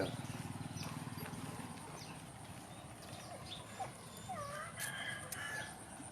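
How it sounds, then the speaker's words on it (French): Buffaloes and cows return to a Thai village at dusk, their hooves clopping faintly in an uneven patter. Chickens and other animals sound in the background. "on va voir la rentrée des buffles, la rentrée des vaches"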